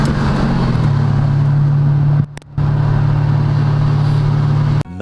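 An Audi fitted with an AWE Tuning Track Edition catback exhaust drones at a steady, loud idle-to-cruise pitch after an initial drop, with two brief cutouts in the sound.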